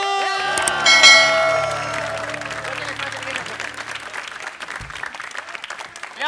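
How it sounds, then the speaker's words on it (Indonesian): A descending electronic chime opens, then an audience breaks into sustained applause that slowly thins out, with voices heard alongside the clapping. "Kalau lucu kasih tepuk tangannya dulu."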